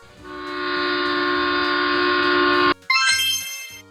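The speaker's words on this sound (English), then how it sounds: "A heritage train is an old train kept for tourists." An old heritage train sounds a long steady horn blast, loud and close, then cuts off and is followed by a brighter, higher chiming tone with a few short repeated notes.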